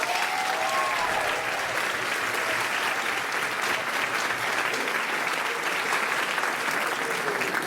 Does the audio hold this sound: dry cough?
no